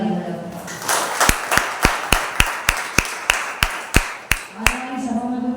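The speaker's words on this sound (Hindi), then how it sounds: "आइए परमेश्वर के आदर के लिए एक जोरदार ताली बजाएं।" A church congregation claps in unison at a Sunday service, with about a dozen loud, evenly spaced claps forming a steady rhythm, framed by a speaking voice just before and after.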